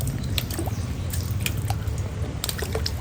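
A water balloon filled with water, shaken by hand, giving soft wet squishes and sloshing drips in quick irregular bursts, close up and without speech.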